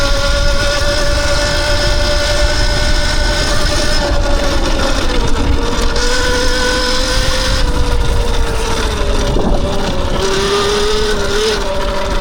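A Tuttio Soleil 01 electric bike ridden fast off-road at around 33 mph, giving a loud, steady rushing whir of motor and wind noise with a rising and falling tonal whine that runs unbroken throughout.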